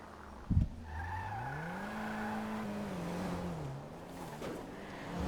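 A Benefactor Panto small city car's engine in the video game GTA 5 hums and rises steadily in pitch as it accelerates, with a thump at the start and a brief tire-like screech, no talking.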